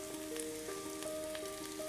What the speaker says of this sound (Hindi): जब तेल गर्म हो जाए तब हम सब्जियां डाल लेंगे।